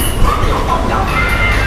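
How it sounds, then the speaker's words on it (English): A sky train pulls into a station with a loud, steady rumble and a faint metallic screech, heard close by with no talking over it. "Here comes the train."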